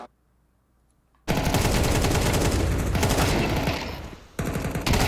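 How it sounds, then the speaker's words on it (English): Rapid Desert Eagle gunfire rings out in a Counter-Strike match, a dense, loud burst of overlapping shots lasting several seconds, dipping briefly before another short volley. "a nice deagle headshot there from Madra"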